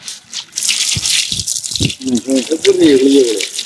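Water gushes and splashes during a bath, loud and continuous, with voices talking and calling over it throughout.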